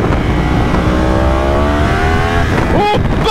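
A Yamaha R1 motorcycle engine, a 200-horsepower bike, revs hard and high in first gear without shifting, pitch climbing steadily for several seconds before a sharp rise near the end, loud and close throughout.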